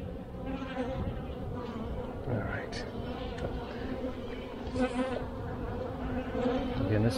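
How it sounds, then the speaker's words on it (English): A crowd of honey bees drones steadily around an open hive during an inspection in cold weather. The buzzing is close and continuous, with small swells in intensity throughout. "there's just so many bees in there"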